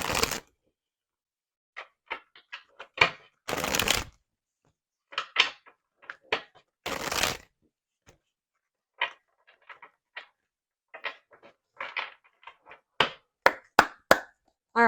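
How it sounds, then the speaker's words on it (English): A deck of oracle cards is shuffled in repeated bursts, with riffle rustles and sharp taps and knocks against a surface, close and fairly loud, with no speech. "let's get some oracle cards to see more of what is going on here"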